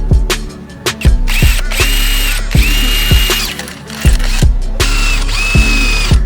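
A power drill bores holes for fitting a front lip onto a car, loud repeated whining bursts with sharp ratcheting clicks between them, several short runs in close succession.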